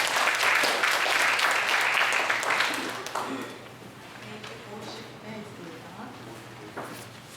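An audience at a literary evening claps to welcome a speaker, a fairly loud burst that fades out after about three seconds, followed by quieter room sounds and some talking.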